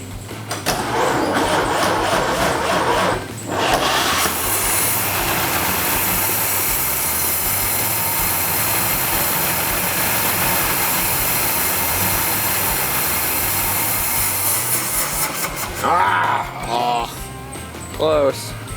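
A 1923 Pierce Arrow Model 33 car engine cranks and catches, then runs loudly and steadily for a long stretch before sputtering, with people talking near the end.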